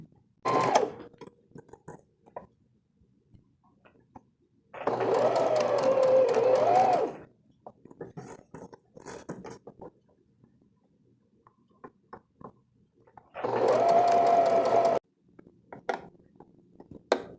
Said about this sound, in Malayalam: ഇനി സ്ലീവാണ് പഫ് സ്ലീവ് സ്റ്റിച്ച് ചെയ്യാണ്.